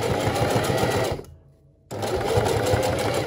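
A home sewing machine stitches a canvas pouch in a steady, loud whir, stops briefly as the presser foot is lowered, then runs again at the same close, even pace.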